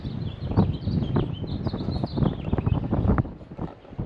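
Wind blowing outdoors on the coast at Point Reyes National Seashore, a steady, rough rush with gusty swells that buffets the microphone continuously for the whole stretch, with no talking over it.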